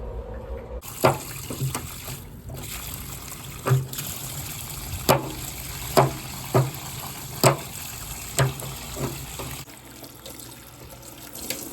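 Hot water runs from a tap into a sink after plumbing work with a new ball valve and shut-off: a steady close stream with a series of sharp splashes and clunks, no talking.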